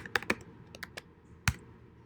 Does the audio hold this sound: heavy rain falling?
no